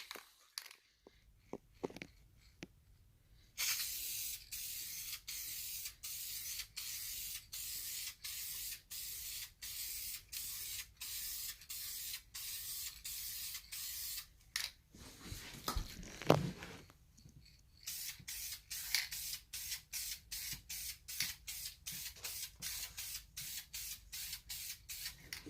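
Wrinkle paint is sprayed from a can onto engine valve and timing covers in many short, hissing bursts with brief gaps between them, close and fairly loud, plus a few handling clicks.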